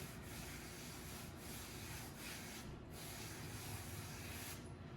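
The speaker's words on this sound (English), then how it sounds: "I'm working that semolina in and just gently rubbing the dough" Hands rub semolina into pizza dough with a steady, soft, close-up rubbing hiss and no talk.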